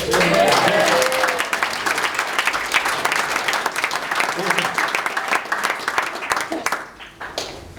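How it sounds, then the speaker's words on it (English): Wedding guests applaud loudly and steadily during a reception speech, a dense, sustained clapping that carries on for several seconds before thinning out toward the end. "Can we give her a clap, actually?"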